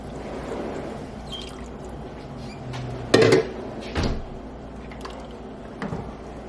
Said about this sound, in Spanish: ahora le voy a agregar el agua.